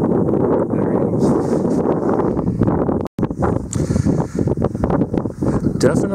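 Gusty wind buffets the microphone out on the ice during an ice-fishing trip, a loud, rough rumble with brief lulls, while people talk underneath.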